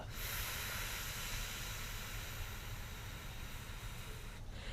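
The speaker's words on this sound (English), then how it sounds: "on the exhale, maybe you can make a nice soft F sound" A steady, soft breathy hiss of air being pushed out, continuous and close, with no voice.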